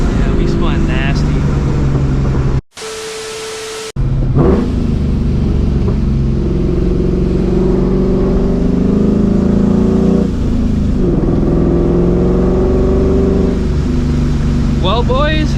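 Turbocharged Scion FR-S, over 350 whp, accelerating hard with its wheels spinning: a loud, close engine drone rising in pitch through the gears, cut by a short burst of loud static, with voices talking over it.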